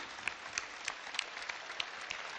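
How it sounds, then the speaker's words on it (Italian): Applause from a crowd at the Novara Calcio team presentation evening at the Broletto: steady, moderately distant clapping with scattered sharper claps standing out, no voices. "E noi dal palco applaudiamo voi che siete i numeri uno"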